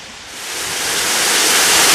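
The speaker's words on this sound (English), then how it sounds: "One of the great features of Big Woods State Park is this great waterfall here coming off of Prairie Creek." A waterfall on Prairie Creek in Big Woods State Park roars as a broad, steady rush of water, loud and close, building slightly and heard alone without voices.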